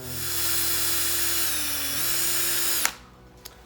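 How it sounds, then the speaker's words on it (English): A power drill whirs steadily for nearly three seconds while drilling a small pilot hole into wood, its pitch dropping slightly midway, then cuts off, followed by a couple of small knocks. "we're gonna put a screw in there, but I'm gonna drill it first"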